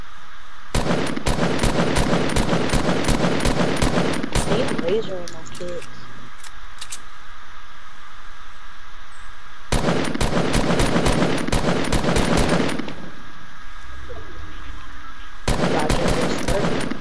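Video game gunfire from an automatic weapon, likely an AR, in long rapid bursts of shots from about 1 to 5 seconds, 10 to 12.5 seconds and again near the end, with quieter gaps between.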